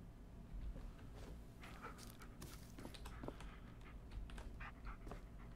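A dog in the Blair Witch video game pants and whimpers softly and steadily over a low game ambience, with faint scattered rustles and no talk.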